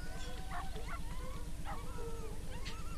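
Hunting hounds working alone along a river give a few short, faint barks and yelps at uneven intervals over a low, steady background hum.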